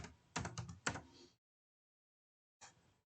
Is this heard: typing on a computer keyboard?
yes